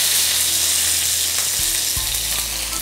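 Curry leaves hitting hot oil with mustard seeds, a loud, dense frying sizzle that continues throughout, with a couple of low knocks from stirring in the pan, no voices.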